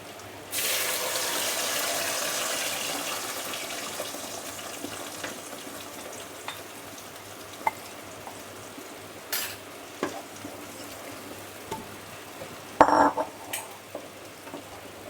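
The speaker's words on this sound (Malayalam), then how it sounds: "പേസ്റ്റാക്കി വെച്ചിരിക്കുന്ന ചക്ക ഇതിലേക്ക് വീത്തി കൊടുക്കാം" Jackfruit paste going into hot ghee in a pan for Kerala chakka payasam, with a soft steady sizzle and occasional scraping stirs and light utensil clinks, close and alone without talk.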